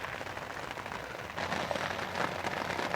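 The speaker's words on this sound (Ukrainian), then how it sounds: "Отака злива іде, а ми сидимо під човнами." Steady broadband hiss of heavy night rain pouring down on an island in the Dnipro, heard from under a boat, growing louder partway through, with dense patter and no voices.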